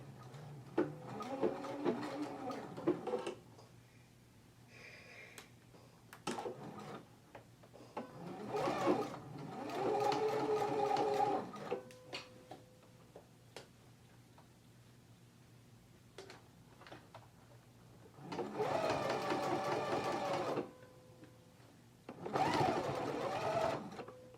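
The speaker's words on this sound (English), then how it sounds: "I'm going to put my needle down right here in the ditch and start stitching" A sewing machine stitches in the ditch along the inside of a pants waistband, running in several separate bursts of steady, close-up stitching with short pauses between them.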